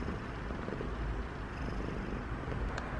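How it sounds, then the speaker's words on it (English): A cat purrs in a low, continuous rumble, very close and soft, with no other sounds. "Your big purr?"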